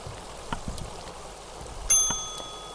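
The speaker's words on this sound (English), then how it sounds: "That's what a good bell sounds like." A single bell strikes in the video game Kentucky Route Zero, a bright, clear ding with long ringing overtones that fade slowly over faint background hiss.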